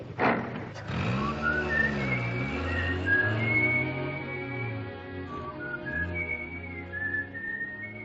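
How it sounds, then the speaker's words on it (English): Melodic whistling carries a wandering tune over a low, steady rumble, with the pitch sliding up and down in long phrases. "Is it all right now if I whistle together?"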